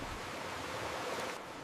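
Stormy sea waves crash under strong wind in a steady, washing roar of surf and gusts, fairly quiet and continuous with no voices.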